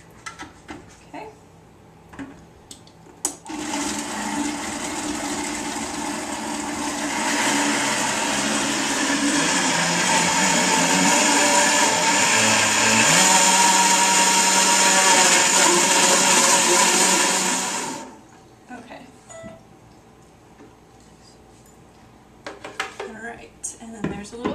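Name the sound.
blender blending strawberries for raw food dessert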